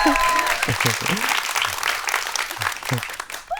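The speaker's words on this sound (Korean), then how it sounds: "박수가 안 멈추니까 되게 당혹스럽네요" Sustained applause from an audience at a Korean lecture stage event, with a voice speaking over the clapping.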